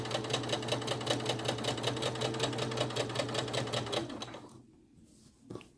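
Sewing machine stitching a drawstring backpack runs in a fast, steady mechanical chatter of regular needle strokes for about four seconds, then stops, leaving near silence with a brief soft clunk.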